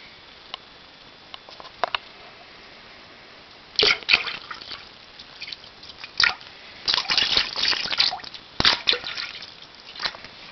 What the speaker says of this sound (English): then you pour some in the bowl